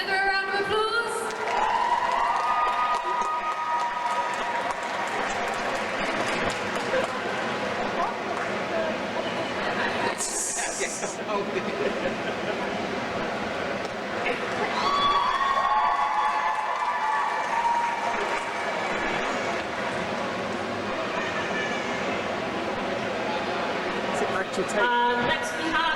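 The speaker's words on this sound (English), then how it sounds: "Another round of applause." An audience applauds and cheers throughout a costume competition at a MEGACON Live convention in Farnborough, a dense, continuous clapping crowd with a presenter's voice heard over it at times.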